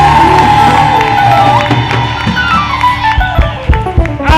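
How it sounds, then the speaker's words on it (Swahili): A church congregation erupts in loud cheering, shouting and clapping for Jesus, a dense crowd roar that gradually thins into scattered claps and calls. "Hebu mshangilie Yesu kwa makofi mengi."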